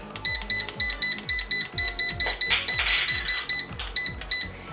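An air fryer beeping quickly and repeatedly as its temperature is set, with a rapid run of short, bright electronic beeps and a soft rustle in the middle, heard close up.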